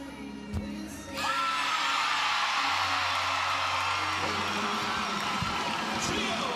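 A large arena crowd at an LSU gymnastics meet against Auburn erupts into loud, sustained cheering and whooping that swells after a sharp bang and stays at full volume for several seconds.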